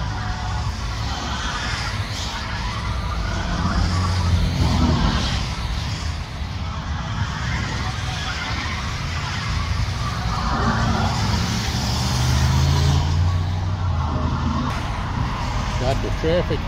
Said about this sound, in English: Got the traffic flying by